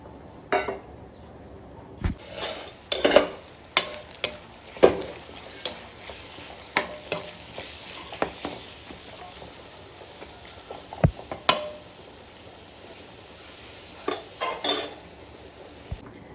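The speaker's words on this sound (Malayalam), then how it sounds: "നമ്മളിത് തക്കാളി ഇതിനകത്ത് ആഡ് ചെയ്ത് കൊടുത്തിട്ടുണ്ട്" Tomatoes tossed into onions in a pan and stirred while they fry, giving a soft steady sizzle broken by a dozen or so sharp spoon-on-pan scrapes and clinks at an irregular pace, close by.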